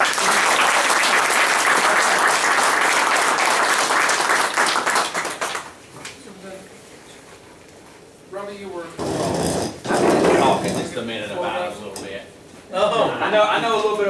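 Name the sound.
audience applause at a recognition ceremony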